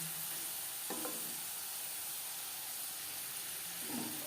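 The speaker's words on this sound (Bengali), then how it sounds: "ভাজবো মিডিয়াম ফ্লেমে একটা সাইড ভাজা হয়ে গেলে অপর সাইডটা" Potato French fries fry in hot oil over a medium flame, a soft continuous sizzle that is faint and close, with two brief scraping clatters as the fries are flipped and no voices.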